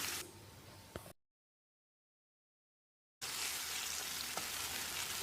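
Onion-tomato paste fries for a restaurant-style chicken gravy with a hissing sizzle and faint stirring knocks, cut off by about two seconds of silence before the frying resumes.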